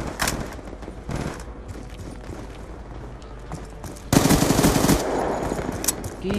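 Gunfire in a Call of Duty: Black Ops 2 gun game match, with steady automatic shooting at a distance that turns into a loud, close, sustained machine-gun burst partway through.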